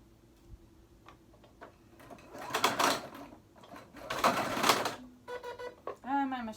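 A home sewing machine sews a stretch stitch on a hoodie, running in two loud whirring bursts with softer ticking between them, followed by speech.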